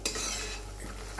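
Makhana fox nuts being stirred in hot ghee with small cardamom, a soft continuous scraping and sizzling in a pan, close and steady with a faint clink near the end.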